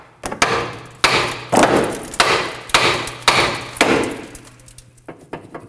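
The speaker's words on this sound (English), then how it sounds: "we're gonna go ahead and hit this with a hammer to pop" A hammer strikes a tie rod end on a 2016-2020 Kia Sorento about eight times in a steady rhythm, each blow sharp and ringing, close by.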